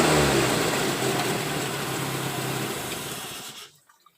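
A Chevette car engine fitted with a motorcycle carburetor runs steadily at a fast, buzzing idle, close by, then cuts off abruptly, leaving near silence.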